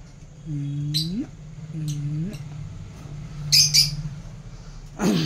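Pet birds in an aviary colony give repeated bright chirps and rising calls, a few close tweets recurring over a low hum, with a louder squawky burst near the end.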